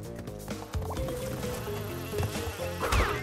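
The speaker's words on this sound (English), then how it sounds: "Oh, there's another bee coming in." A bee buzzes in the Crash Bandicoot 2: Cortex Strikes Back N. Sane Trilogy video game, a steady insect drone over layered game music and effects throughout.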